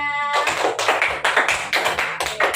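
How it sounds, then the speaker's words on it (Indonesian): A classroom group claps for group 3: dense, close applause of many hands that starts abruptly after a brief voice and carries on steadily to the end. "kita beri aplaus untuk kelompok 3"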